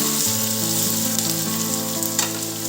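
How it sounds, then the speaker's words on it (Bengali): Onions fry in a pan during home cooking for khichuri, giving a steady, close sizzle that runs unbroken throughout, with no one talking. "এই যে পেঁয়াজটা ভাজা হয়ে গেছে"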